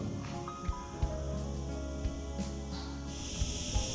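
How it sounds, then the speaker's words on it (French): Cicadas or similar insects in Almería, Spain, keep up a loud, steady high buzzing drone the whole time, with faint scattered thumps and rustles mixed in. "ces cigales, ou je ne sais pas ce que c'est, font un bruit incroyable"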